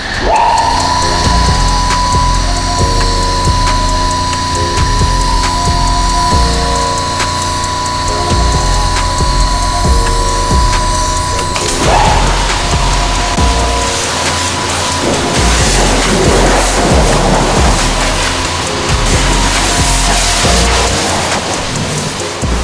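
A touchless car wash blasts high-pressure spray over a drywall truck, a loud continuous hiss and roar of water with a steady machine tone, shifting to a rougher, splashier wash midway.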